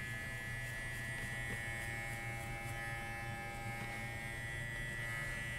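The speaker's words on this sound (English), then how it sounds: "I'm pretty pleased with how this clipper is performing." Steady, close electric buzzing from an FXONE hair clipper runs unbroken during a haircut, a constant motor drone with faint hum and no talking over it.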